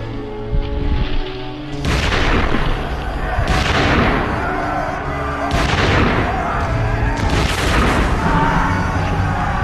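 British troops fire a massed musket volley at the French Imperial Guard in battle, heard as a series of loud booming blasts, each followed by a long rolling crash, repeating several times over continuous battlefield din.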